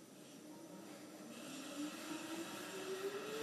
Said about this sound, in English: So you'll just hear the electric motor whirring.